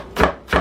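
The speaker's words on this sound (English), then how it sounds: "And you just keep chopping it until it gets small" Two sharp, close knife chops land on a cutting board about a third of a second apart, each a crisp thud.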